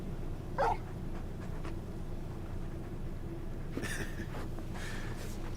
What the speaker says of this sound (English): Just a big puppy, aren't you? A very big puppy.